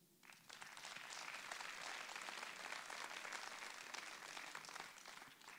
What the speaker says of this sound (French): Le premier domaine VTT de France, Provence-Alpes-Agglomération, ça s'applaudit.